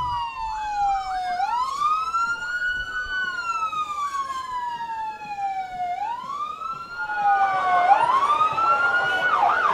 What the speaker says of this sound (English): The ambulance of the Trinidad and Tobago Coast Guard and the Trinidad and Tobago